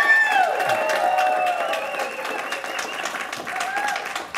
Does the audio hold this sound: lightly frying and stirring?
no